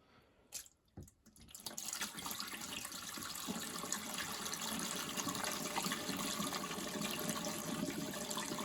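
Water rushing from a Bosch WFP3300 washing machine as it drains, beginning with a few knocks and splashes before a steady, continuous hiss of flowing water that holds at moderate level to the end.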